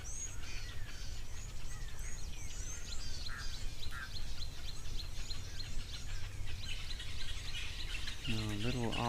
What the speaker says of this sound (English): in the background you can hear the little owls calling.